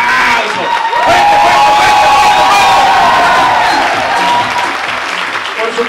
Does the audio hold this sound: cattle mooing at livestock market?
no